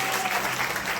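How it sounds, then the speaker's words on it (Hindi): An audience at a Hindi Christian sermon claps loudly and continuously in a short burst of dense applause. "ताली का जोर से"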